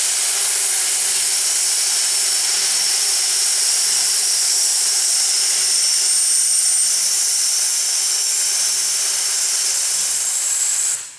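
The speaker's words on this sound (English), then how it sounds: "that sound you just heard, that was the pop-off valve" A steam locomotive's pop-off safety valve on the Tavares, Eustis & Gulf Railroad in Florida blows off steam in one loud, continuous roaring hiss that holds steady for about eleven seconds, then cuts off abruptly at the end.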